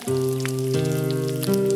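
Patties sizzle on a hot grill, a steady crackling hiss with faint pops, heard alone at close range.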